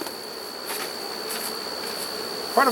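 Honeybees around a beehive make a faint, steady insect hum over a low background, with a brief higher chirp near the end.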